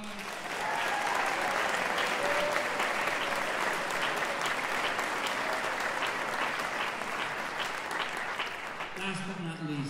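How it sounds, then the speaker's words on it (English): Audience at a high school all-star band concert breaking into sustained applause, dense clapping that swells quickly and holds steady for several seconds before tapering near the end. "please give them a round of applause"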